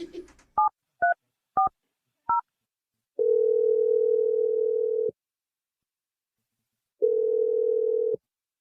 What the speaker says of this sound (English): Let's make the call to Jake right now.